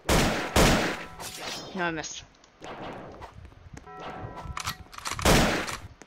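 Video game gunfire of an underground war, several loud sharp bursts close by, mixed with excited talking from players.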